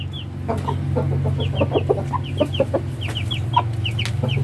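Startled chicks and chickens in a small backyard pen cluck and peep in rapid, overlapping bursts close by, steady over a low background hum.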